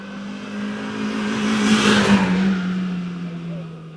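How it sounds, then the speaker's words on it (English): An Opel Corsa, its engine oil replaced with lard or margarine, runs laps on a track, its steady engine drone swelling louder as the car passes close by, then fading slightly as it moves away. "Listen up, the Corsa is still running."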